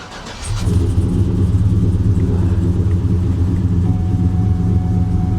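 An engine turns over and settles into a loud, deep, steady rumbling idle on a wrecked car at auction, running continuously for about five seconds up close with no voices.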